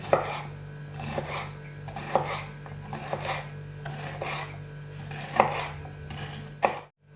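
A knife slices bell peppers into strips on a cutting board, brisk rhythmic slices with a crisp rasp, steady for several seconds, then stops abruptly.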